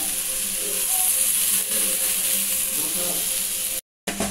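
Dosa batter poured into a hot oiled paniyaram pan, a loud steady hiss and sizzle up close that cuts out briefly near the end.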